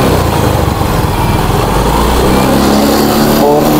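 A Yamaha Mio i 125S scooter engine is revved with the throttle, a loud steady buzzing drone that rises in pitch partway through as the throttle is squeezed, heard close up with no talking.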